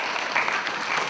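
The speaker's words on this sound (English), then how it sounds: "Give her a clap." A brief burst of clapping from a small crowd, steady and fairly loud, lasting about a second.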